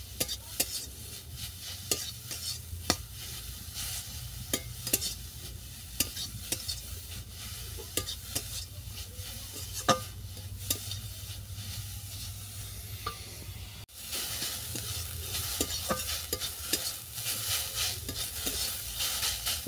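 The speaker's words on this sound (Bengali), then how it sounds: "ওলকপিটাকে 2 মিনিট ধরে ভেজে নেব। তবে মৃদু আঁচে ভাজতে হবে।" Kohlrabi pieces fry gently over low heat in a pan, giving a soft continuous sizzle with frequent sharp clicks and scrapes of stirring and a sudden shift in level about two-thirds of the way through.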